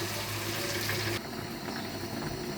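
Water pouring into a pan of rohu fish curry, a steady rushing splash that stops abruptly partway through, leaving a softer bubbling simmer.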